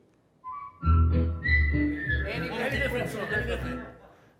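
A person whistles a short tune during a name-that-tune game, the clear melody carrying for several seconds while others chuckle and chatter beneath it.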